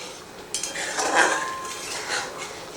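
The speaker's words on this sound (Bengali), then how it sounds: "তো আরও আমি 1 মিনিটের মতো মশলাটাকে কষিয়ে নিই।" A spatula scrapes and clinks against a pan as masala for Rajasthani gatte ki sabzi is stir-fried in ghee. The clatter is close and steady, with one louder scrape near the middle and little sizzle underneath, and no talking.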